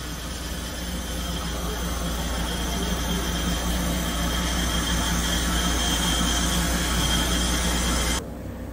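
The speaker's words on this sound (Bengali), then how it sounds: "এই আমাদের ট্রেন দিয়ে দিয়েছে স্টিম ইঞ্জিনের" Darjeeling toy train on a steam-powered joy ride between Darjeeling and Ghum: a steady, loud rumble of rolling wagons and hissing steam runs close by without a break, then drops away abruptly near the end.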